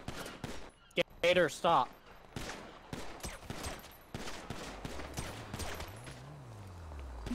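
Gunfire in GTA 5 roleplay, with several sharp shots in quick bursts near the start, followed by a longer stretch of smaller cracks and scuffling, with someone briefly talking over it.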